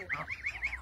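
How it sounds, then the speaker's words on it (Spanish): Geese honk in a quick run of about four or five nasal calls, close and fairly loud, with no talk over them. "Mire los gansitos, mire."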